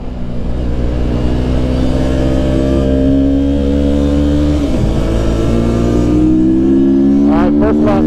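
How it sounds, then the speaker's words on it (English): A Mini Rip motorcycle engine, still cold and bucking on the first practice lap of a race weekend, drones loudly and steadily up close, its pitch climbing through the gears and briefly dipping before a rapid rev burst near the end. "Bike is still a little cold, I feel it bucking."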